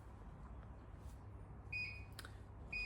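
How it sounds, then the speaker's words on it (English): A faint oven timer gives two short high beeps about a second apart, far off under a steady low room hum in a home. "There's the timer on the oven."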